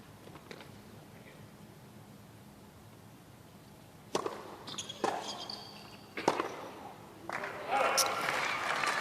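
Applause from a tennis crowd and a coach's box rises after a point in a United Cup 2025 quarterfinal women's match. Scattered claps swell in bursts over steady crowd murmur, moderately loud, with commentators talking over it.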